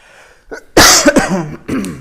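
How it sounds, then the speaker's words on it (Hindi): A couple of harsh, close coughs in quick succession, with a short breathy sound before them. "अरे यार खांसी हो रही है।"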